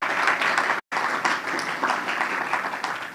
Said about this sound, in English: Yes, you get applause for that.